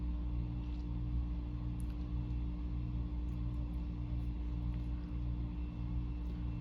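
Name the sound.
heat pump starting up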